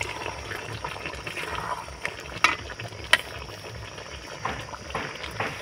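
Spiced raw mango pickle stirred in a pot: a steady wet, scraping churn with a few sharper clicks and knocks, close and fairly quiet, with no voices.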